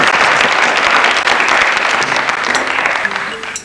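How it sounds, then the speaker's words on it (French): Studio audience applause on a French TV game show, a dense, loud wash of clapping that holds steady for a few seconds and then tapers off at the end. "c'est les applaudissements du public"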